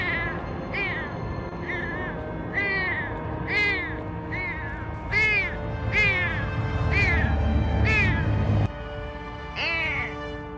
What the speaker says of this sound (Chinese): 小奶猫痛苦叫唤着